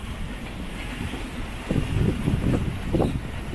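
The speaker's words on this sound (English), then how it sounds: "It's wind again." Wind buffets a sailboat out on the water in moderate breeze, a steady low rushing with gusty microphone rumble that swells in bursts toward the end; no one speaks.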